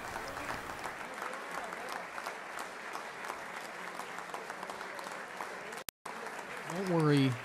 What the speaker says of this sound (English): The applause will not be as long as they were if you watch the State of the Union address